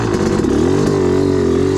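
Yamaha YZ 250 two-stroke dirt bike on a woods setup, running just after a kickstart: a loud, steady, close engine drone with a slight rise in pitch partway through, heard alone.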